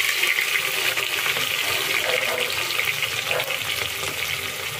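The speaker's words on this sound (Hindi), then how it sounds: "ये प्याज लहसुन को हमने छोड़ दिए हैं। अभी इसको थोड़ा सा फ्राई कर लेंगे।" Onion and garlic frying in hot oil in a home kitchen, a dense, continuous crackling sizzle that stays loud and close for the whole stretch, with no talking.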